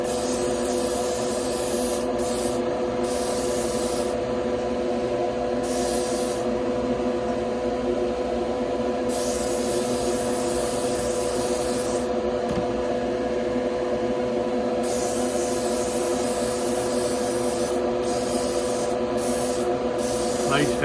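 A paint spray gun hisses steadily while a heavy coat goes onto a 1970 Chevelle, a loud continuous spray with brief pauses between passes.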